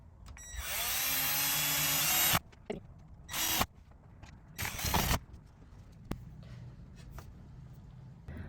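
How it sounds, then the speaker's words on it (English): A power drill pre-drills screw holes for a bed frame repair inside an RV, with a long whine, short sharp bursts and ratcheting clicks between quiet gaps. "Pre-drill, pre-drill, pre-drill."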